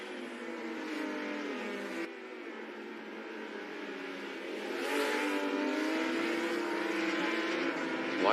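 A Datsun 510 race car engine in a virtual racing game drones steadily at high revs, rising in intensity partway through as the car accelerates, loud and continuous with no voices.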